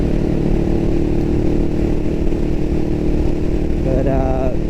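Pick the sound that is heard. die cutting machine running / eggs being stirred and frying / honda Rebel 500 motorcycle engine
honda Rebel 500 motorcycle engine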